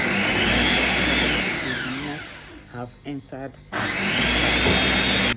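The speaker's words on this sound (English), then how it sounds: "move to blending the tomatoes one set after the other" An electric blender purees tomatoes for stew, a loud, close, steady whirring roar that cuts out midway while a person speaks briefly, then starts up again at full force.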